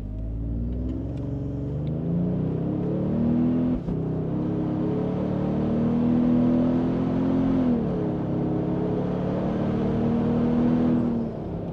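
A 2022 Toyota Tundra fitted with a cat-back exhaust and air intake revs toward 5,000 RPM in sport mode, heard from inside the cab as a deep rising engine drone that climbs, holds, dips and climbs again.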